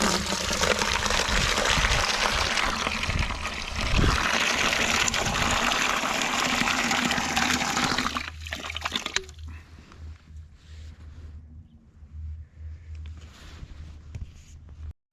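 Water gushes loudly from a newly installed outdoor water hydrant fed by a freshly trenched waterline for about eight seconds, then stops abruptly, leaving only faint dripping and a low background hum.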